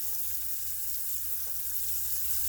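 Boiling water poured from an electric kettle onto grits, a steady soft hiss and sizzle-like wash held for a few seconds, close and even with no talking.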